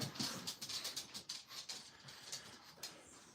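A dog whimpering indoors, a string of soft, high, short whines repeating irregularly, faint and without talk.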